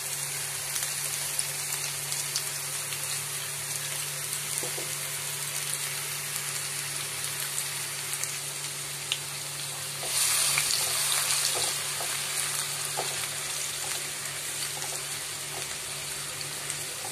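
Chopped onion frying in oil for a Mughlai chicken gravy, a continuous crackling sizzle like light rain that swells briefly louder midway, close and steady with no talking.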